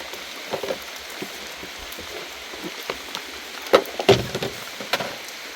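The first rain of the year patters onto surfaces outdoors, a light scattered dripping with a few sharper nearby drops and knocks standing out over a quiet background.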